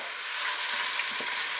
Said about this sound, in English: keep it stirring and frying over a fairly high heat